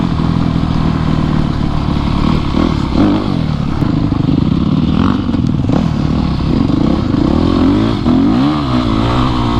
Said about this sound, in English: Mine does not pick up, it just spins in the dirt right here.